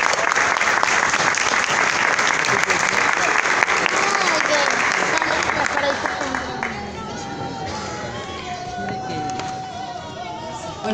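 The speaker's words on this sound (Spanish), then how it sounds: "El aplauso para Mariana y para Romy, entonces." Audience applause and crowd noise fill a carnival venue at an awards ceremony, loud and continuous clapping that gradually thins and softens toward the end, with some voices and chatter mixed in.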